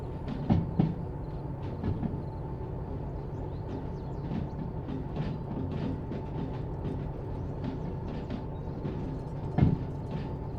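Freight train shunting in the railway game Derail Valley, a continuous low rumble of rolling wagons with repeated metallic clicks and clanks, loud and steady with a couple of sharper knocks.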